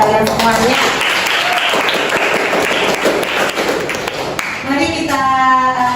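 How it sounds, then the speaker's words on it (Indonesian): Students clapping in a classroom lesson, loud and steady applause close by, with an adult voice speaking over it at the start and again near the end. "Tepuk tangan buat kalian semuanya."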